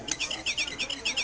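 A child imitates a bird call, whistling a rapid run of high, chirping tweets in a lively repeating rhythm, close and clear.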